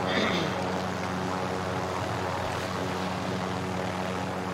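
Helicopter rotor and engine drone in a video game, a steady loud whir that holds for the whole stretch and sits under it all, with no distinct blade chop standing out.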